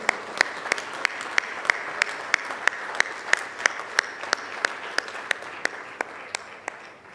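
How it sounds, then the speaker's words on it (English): Applause at an annual international business conference in Bahrain, but only a few sparse claps here: single sharp hand claps in a steady slow rhythm, moderately close, fading slightly toward the end. "The applause should go on, please."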